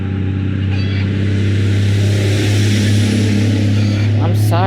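Construction trucks pass nearby as a loud, continuous low engine rumble that fills the whole clip, with a voice briefly heard near the end.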